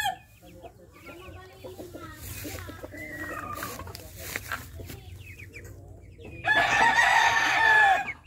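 White Kelso gamecock of the Thompson line, a champion fighting rooster, crowing repeatedly in bright, wavering calls, ending in a loud close crow, with clucks and other birds around and a voice talking under it.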